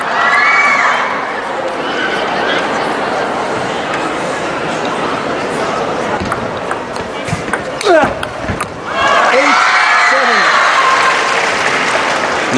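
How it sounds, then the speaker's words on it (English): A crowd of girls screams and cheers at a 2014 China Open men's quarterfinal table tennis match, a loud, sustained roar of high voices that briefly dips and then surges again, with a voice talking over it. "there are a lot of girls screaming"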